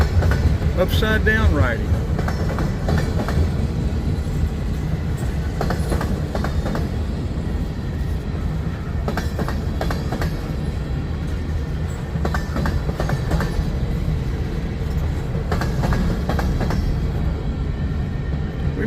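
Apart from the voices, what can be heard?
CSX freight train passing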